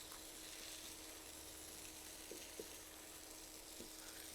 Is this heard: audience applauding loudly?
no